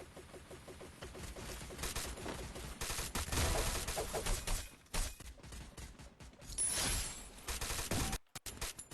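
Gunfire in the battle-royale game Free Fire: dense, sustained bursts of rapid shots, loud and close, broken by short pauses, with a brief dropout near the end.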